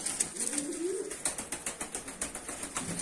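A blue Mardin pigeon coos softly nearby, a low murmuring call, while light rhythmic rustling and flapping repeat in the background.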